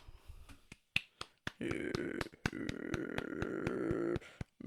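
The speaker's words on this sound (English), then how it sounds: "I'm just clapping." Sharp hand claps keep time along to a cowboy ballad, sung over music; a handful of crisp, evenly spaced claps ring out near and loud, with the song carrying underneath.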